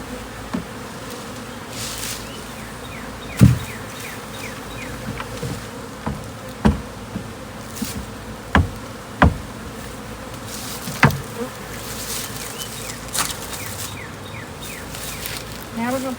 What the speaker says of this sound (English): we're going to just go knock the bees down into the hive